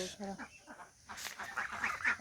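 Geese and a male Chinese duck on a home poultry farm honk in a few short nasal calls, then a busier stretch of noisy cackling and rustling follows, fairly close.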